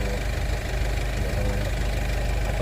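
Steady engine idling with a low rumbling, slightly knocking pulse, continuous and close throughout with no talking.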